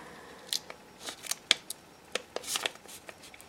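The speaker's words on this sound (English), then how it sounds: "We start with folding 1 diagonal." Paper being folded along a diagonal to start a blueberry star, with a series of short, crisp creasing and rustling sounds at irregular intervals, close and moderately loud with no talking.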